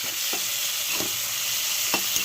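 Ginger-garlic paste masala frying on high heat in a pan for a simple ridge gourd curry, a steady bright sizzle with a few soft scrapes of a spoon stirring, close up and without voices.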